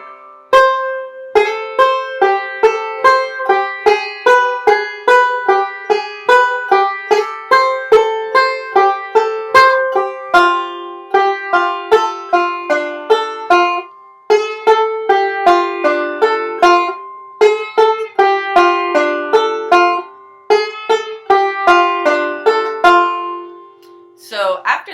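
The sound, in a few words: banjo playing Kansas City Railroad Blues, B part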